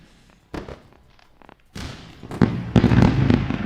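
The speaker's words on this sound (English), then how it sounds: "We're going to run a nice fireworks show for you" Fireworks bursting at a New Year celebration, a few scattered thumps early, then a run of loud, dense crackling bangs building toward the end.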